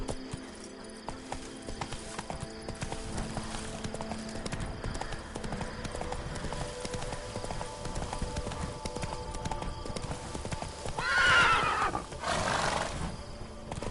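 Roach, the horse in The Witcher 3, gallops in steady clip-clop hoofbeats that run throughout, with a neigh or whinny rising near the end amid game ambience.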